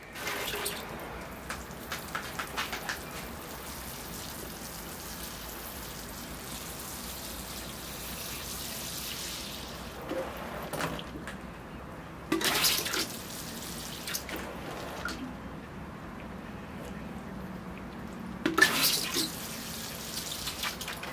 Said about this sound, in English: I think I'm ready to water the tree. All right, here I go with the water.